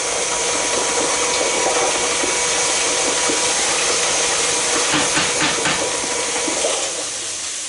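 Electric hand mixer whirring steadily while blending a caramelized onion dip, a loud continuous motor hiss with faint bowl scraping toward the end.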